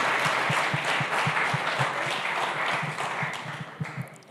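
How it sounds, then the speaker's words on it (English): An audience at a hackathon session applauds: continuous hand clapping from a roomful of people that holds steady and then thins out toward the end, with no speech over it. "If we can just quickly give them a round of applause at the beginning of this session."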